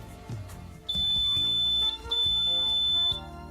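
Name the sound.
bread maker beeping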